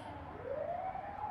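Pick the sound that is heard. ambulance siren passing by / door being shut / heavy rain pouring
ambulance siren passing by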